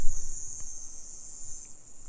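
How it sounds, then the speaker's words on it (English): Loud insects chirp outdoors beside a lifted Chevrolet Silverado pickup, forming a continuous, shrill, unbroken high drone with no voices over it. "forgive the loud bugs."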